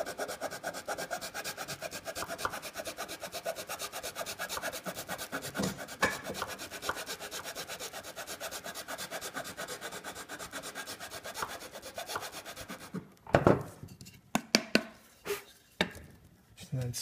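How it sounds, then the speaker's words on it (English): A coarse file rasps against the chamfer of a band organ violin pipe in steady, close back-and-forth strokes for a long run, then breaks into a few louder, separate scrapes and knocks near the end. "So then I use my coarse file to get started."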